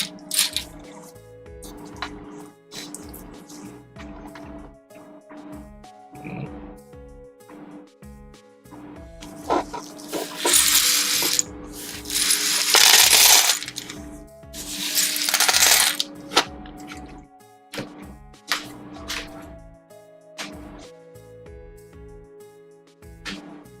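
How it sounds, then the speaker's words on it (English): Small plastic Gunpla model parts clatter and tick as they are brushed onto a tray, scattered close clinks that build into a dense rattling burst midway before thinning out again. "I'm going to brush all of these onto another tray"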